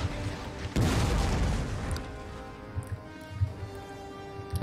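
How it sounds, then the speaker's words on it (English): Artillery fire in the strategy game Total War: Rome II lands as a heavy, low boom that rumbles for about a second, followed by scattered fainter impacts and battle noise. "So a lot of artillery is being dropped there."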